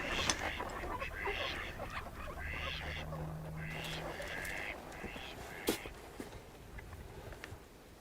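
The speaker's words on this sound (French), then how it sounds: "Ah ben là-bas, il y a une belle volée de canards." Mallard ducks quacking in a flock at a hunting blind on a marsh, several calls in bursts over a steady outdoor background, moderately distant, with a low hum and a voice speaking at times.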